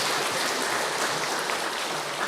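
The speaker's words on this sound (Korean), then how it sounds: "힘내라고 박수 한번 쳐주세요" Catholic parish congregation at a confirmation class in a church claps in encouragement, a steady, moderately soft wash of applause with no voices.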